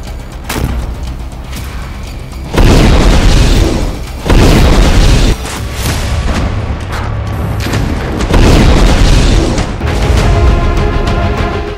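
Heavy explosions from a Hamas attack on Israeli tanks in Gaza, several loud booming blasts at intervals over a continuous rumbling background, with no speech.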